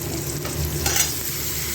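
Marinated chicken sizzles loudly as it hits lightly fried onions in a hot pan, a dense, steady frying hiss with a brief stirring scrape partway through.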